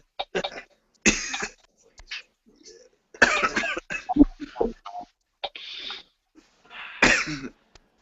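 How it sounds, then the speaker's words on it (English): Several sharp coughs and throat-clearing bursts break out at intervals, some close and loud, others quieter, with brief pauses between them. "Why are you guys coughing?"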